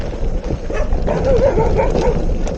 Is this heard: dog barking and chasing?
yes